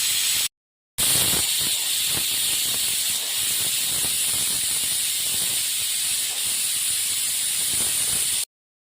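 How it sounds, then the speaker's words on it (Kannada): A kitchen pressure cooker cooking peas vents a loud, sustained steam whistle, a steady high hiss lasting about seven seconds after a brief cut at the start. "ನಮ್ಮ ಕುಕ್ಕರಲ್ಲಿ ಒಂದು 15 ವಿಸಿಲ್ ತಗೊಳ್ಬೇಕು."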